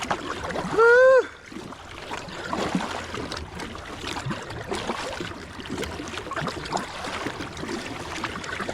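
A kayak is paddled hard against a river current, with repeated water splashes and gurgling strokes close by. A short sharp squeal-like sound comes near the start, and faint wind and stream noise run underneath.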